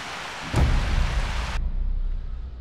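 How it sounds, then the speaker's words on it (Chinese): A sudden heavy rainstorm at night beside a small river where a camper van is parked. Dense, steady rain hiss fills the scene, with a deeper rumbling surge swelling in near the start and persisting under the downpour. "晚上突然下暴雨了"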